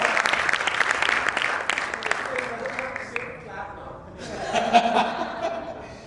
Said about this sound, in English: One round of applause